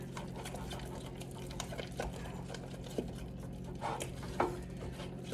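A homemade playdough mixture with added flour is stirred in a bowl, giving soft, quiet scraping and patting sounds over a low steady hum, with a few slightly louder knocks.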